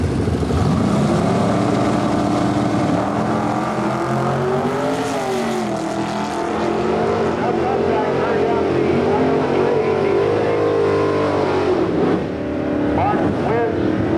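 At a 1997 NHRA divisional drag race at Delmar US13 Dragway, a muffled small block Chevy Camaro and a big block Ford Thunderbird roar down the strip, with loud continuous engine drone and rising revs throughout.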